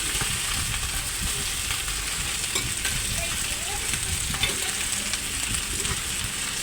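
Food being sautéed in a pan for an inexpensive home-cooked dish, with a steady close sizzle and occasional scraping stirs and small pops throughout, no voices.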